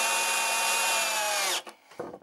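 A power drill drives a temporary screw into wooden pavise shield planks, a loud high whine with steady pitch for about a second and a half, then stopping abruptly, followed by a few soft knocks and handling sounds.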